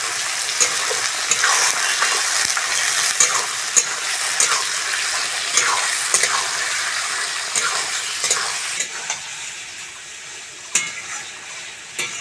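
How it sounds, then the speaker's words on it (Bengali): Chicken pieces fry with onions in a pan for a thin chicken curry, a loud close sizzle with frequent rhythmic scrapes and clinks as the spatula stirs, easing slightly near the end. "চিকেনটা পেঁয়াজের সঙ্গে ভালো করে ভেজে নিয়েছি।"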